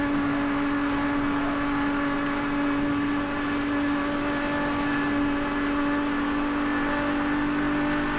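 Steady, sustained engine drone of a racing car speeding in Need for Speed: Hot Pursuit (2010), a constant humming whine at high speed with no talking over it.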